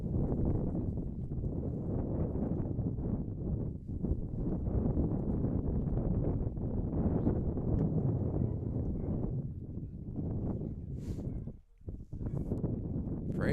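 Steady wind buffets the microphone at an outdoor high school baseball field on a windy Monday afternoon, a continuous rough rumble that dips briefly near the end.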